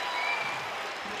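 A home baseball crowd cheers and applauds a leadoff walk at a Texas vs Tarleton State game, a steady broadband roar of clapping and voices holding loud throughout with no break.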